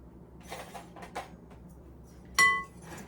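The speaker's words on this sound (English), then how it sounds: "We are going to whisk these things together" Flour, baking soda and salt are whisked in a bowl for a pumpkin roll or blondies, with soft scattered scrapes and taps ending in one sharp clink of metal on the bowl.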